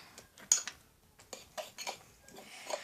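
A spoon stirs and folds foam-soap slime in a bowl, giving soft wet squelches and a few sharp clicks of the spoon against the container, in irregular bursts with short pauses between them.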